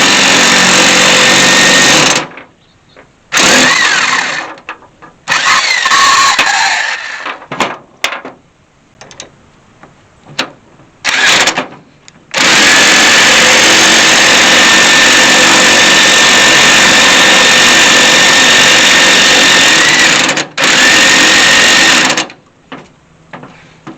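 Wheel studs pressed into a brake hub off the vehicle on a 1964 Ford Falcon with Scarebird brakes, heard as loud, sustained mechanical whirring bursts of a power tool, stopping and starting repeatedly with short pauses and one long run.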